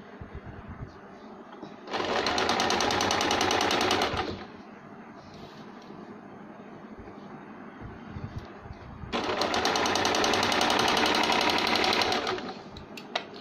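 A sewing machine stitches the lining onto the back piece of a two-shade saree blouse in two steady, loud whirring runs of about two and three seconds, separated by a quieter pause.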